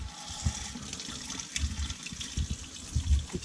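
Hot water running from a faucet in a 2020 Coachmen Beyond RV, a steady close splashing stream with irregular gurgles and sloshes, alone with no talk.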